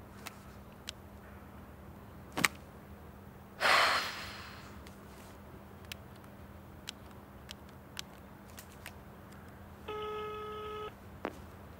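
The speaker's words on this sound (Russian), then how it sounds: "Вот это Олегу звонили." A telephone rings once, a brief burst of electronic tones, then a second steady tonal ring near the end, each standing out clearly over a quiet room with no talking.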